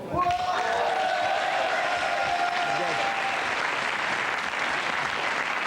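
An audience applauds a band on a French TV show: broad, steady crowd clapping that starts as a held note dies away, then carries on evenly and at moderate level to the end.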